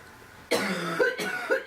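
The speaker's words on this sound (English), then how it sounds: "oh my god, I'm gonna cough" Two short, sharp coughs close to the microphone, the first slightly longer, with a brief pause between them.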